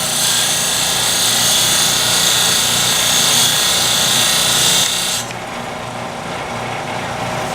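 A fluted woodturning gouge, being shaped into a beading tool, is pressed flat against a spinning grinding wheel, giving a loud, steady, harsh grinding roar that drops slightly in tone and level partway through, with no talking.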